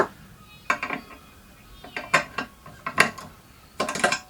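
Ratchet clicking in short bursts as new studs are tightened on the exhaust manifold of a Land Rover 300tdi engine, several quick close metallic runs with brief gaps between them.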